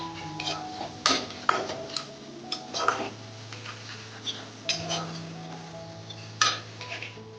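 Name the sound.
stirring ginger garlic paste in a pan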